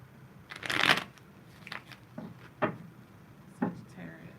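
Tarot cards get shuffled in a series of close, crisp bursts, a longer riffle first and then several short taps and flicks of the deck, spaced irregularly.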